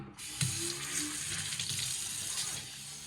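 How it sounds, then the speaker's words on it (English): Tap water runs steadily into a stainless steel Kraus kitchen sink during a rinse after deep cleaning, a close, continuous broadband splash and hiss with no talking. "It's time to give this a rinse, folks."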